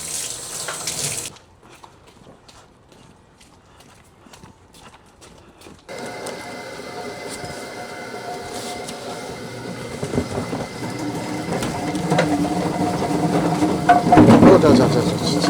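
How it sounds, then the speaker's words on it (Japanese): A potato washing machine runs with splashing water in a tempura shop's prep area, its steady churning and rushing rising in the second half after a quieter stretch, with clattering mechanical noise close by and no speech. "あれが芋洗い機だね。"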